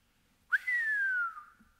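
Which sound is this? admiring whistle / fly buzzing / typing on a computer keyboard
admiring whistle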